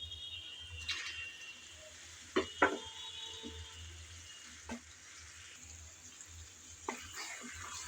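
Mutton with spices being stirred and fried in a pan, a faint steady sizzle with occasional scrapes and knocks of a spoon against the pan, no voices.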